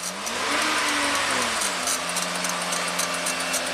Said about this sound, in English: We'll rev it up.